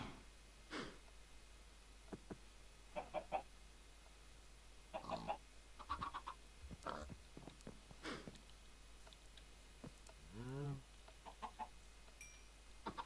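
Chicken clucking in the Minecraft video game, scattered short clucks and chirps over a steady hiss, fairly faint, with a longer warbling call near the end.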